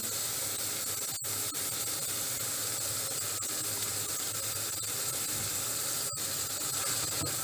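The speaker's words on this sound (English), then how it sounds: "we put the minced meat in a pan and fry it with a small amount of oil" Minced meat frying in a pan in a small amount of oil with onion and pepper, giving a steady close hiss and sizzle throughout, broken by a couple of sharp clicks.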